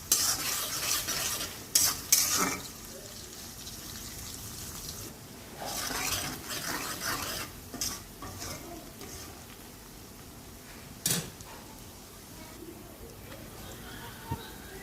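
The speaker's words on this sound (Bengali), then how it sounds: "সাথে এটা ভালো করে ভাজবো পেঁয়াজটা" Sliced onions fry in fish-frying oil in a pan while muri ghonto is cooked, giving intermittent sizzling broken by loud scraping bursts of stirring, with quieter gaps between.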